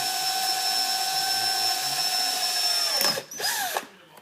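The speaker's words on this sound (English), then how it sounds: "That drill has seen some wear." A worn power drill whines steadily at high pitch, then spins down and briefly restarts before stopping.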